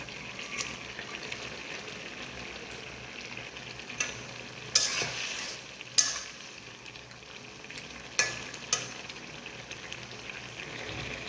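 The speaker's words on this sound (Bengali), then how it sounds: "এখন আমি মাছগুলোকে দিয়ে দেব" Fish pieces going into a bubbling curry in a pan, giving a steady soft sizzle and simmer with a few sharper splashes and clinks of a utensil, close by.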